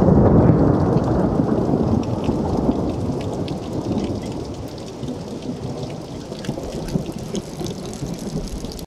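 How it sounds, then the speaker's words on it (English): Heavy thunderstorm with steady downpour and low rumbling thunder, a dense continuous roar that eases slightly midway, no voices. "The storms have arrived."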